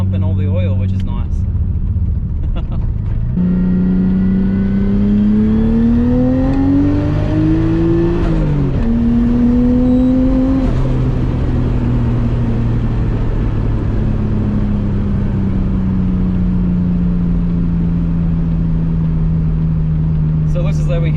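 A car engine hums and revs while driving, with pitch rising under acceleration, dipping at a gear change, then settling into a steady loud drone throughout.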